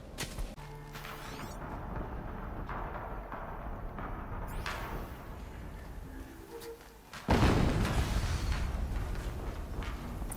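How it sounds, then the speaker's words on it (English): An explosion in the video game Horizon Zero Dawn Remastered hits as a sudden loud, booming burst partway through, rising out of steady in-game rumble and effects. "Another explosion."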